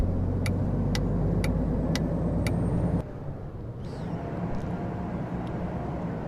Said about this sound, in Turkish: Çalıştıralım arabamızı.